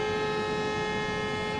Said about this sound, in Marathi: चला सिग्नल दिला आपल्या ट्रेनने.